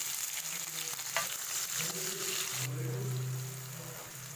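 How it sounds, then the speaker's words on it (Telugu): Onion frying in oil in a pan with cumin, cinnamon and cloves gives a quiet, continuous crackling sizzle with a low hum and light stirring, heard close with no voices. "ఆనియన్ వేసుకోవాలి"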